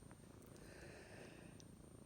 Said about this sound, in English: It's Teddy there purring away.